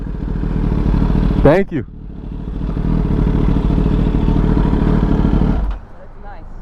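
A 2021 Kawasaki ZX10R motorcycle fitted with an M4 exhaust rides along with a steady, loud engine drone that drops away near the end, while voices speak briefly over it.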